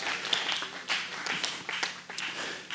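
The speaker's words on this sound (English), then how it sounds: "So give yourself a round of applause." Audience applause in a church service, a steady patter of many hands clapping at moderate volume, a few louder claps standing out, lasting a few seconds without talk.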